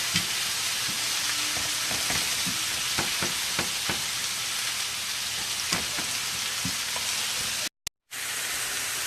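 Vegetables sizzle steadily on a hot griddle pan for a cheesesteak, a dense continuous hiss with scattered crackles and pops, close and fairly quiet, briefly cutting out near the end.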